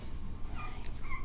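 Six-week-old puppies whimper and yip in a few short, high, thin cries, close by over a faint background hum, with no talking.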